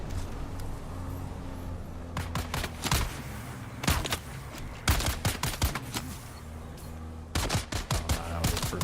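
Rapid bursts of gunfire from cultists in Dune: Awakening, firing in repeated volleys at a moderate distance over a low steady engine-like hum, with no talking.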